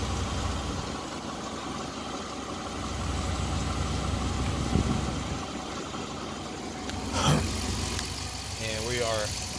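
2005 Dodge Charger 5.7 V8 idling after a water pump replacement, a steady low engine drone throughout, close up, with a brief rattle near the end and a voice speaking over it at times.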